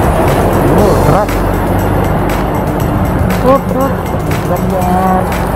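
A truck rumbles past close by in South Korea in autumn, its engine and road noise steady, while outdoor ambience and a few faint chirps sit around it.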